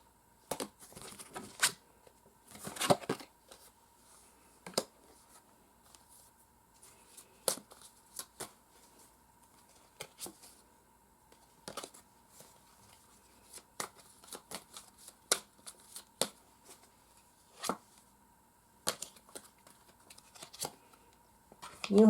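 Chakra oracle cards are handled and shuffled in scattered bursts of crisp riffling and flicking, with quiet gaps between, close up and without talk.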